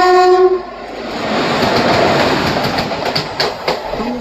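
A WAP-4 electric locomotive hauling the Visakhapatnam–Bhubaneswar Intercity passes near Simhachalam station, opening with a loud horn blast, then a steady roar of wagons rolling by close at hand with rhythmic wheel clatter.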